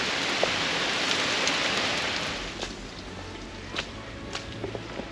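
Steady rain shower on an outdoor walk near Neuruppin, a dense even hiss of falling drops with a few sharper taps and some low rumble, fairly close and continuous without talk.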